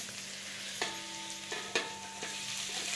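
Green chillies fry and get stirred in a pan, a steady oily sizzle broken by a few sharp scrapes and clatters of the spoon against the metal, close and fairly loud with no voices.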